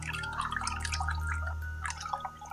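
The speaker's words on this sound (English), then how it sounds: "I hear pouring, it sounds delightful." Liquid being poured, a steady trickling and splashing that stays close and fairly quiet against a low background hum, with no talking over it.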